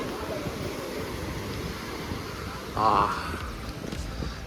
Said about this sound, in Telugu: ఇదిగోండి బీచ్ ఇదే.